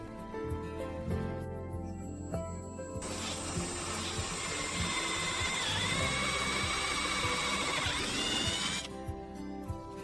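A power drill whirs steadily for several seconds with a rising, straining tone, boring a 7.5 mm cable hole in a 2014 Ford Transit van door, starting after a few quiet mechanical clicks and stopping near the end.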